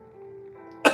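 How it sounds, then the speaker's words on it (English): A single short, sharp cough bursts out near the end after a quiet, faintly humming stretch, close to the microphone. "I'm currently coughing up all the microplastics in my lungs."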